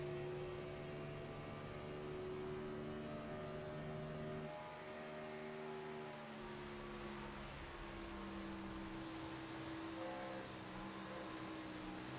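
Race car engine on board car 15 in the iRacing video game at Michigan, a steady high-pitched drone with layered harmonics that dips briefly and then climbs again, loud and continuous throughout.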